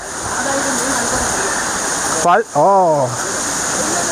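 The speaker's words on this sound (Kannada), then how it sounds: "ಎಲ್ಲೆಲ್ಲೋ ನೀರಿನ ಜೇರಿಗಳು ಹರ್ಕೊಂಡು ಬರ್ತಿದ್ದಾವೆ" A constant rushing of rain-fed streams flows nearby in dense forest on the Dudhsagar Falls trek, briefly overlaid by a voice speaking a few words midway.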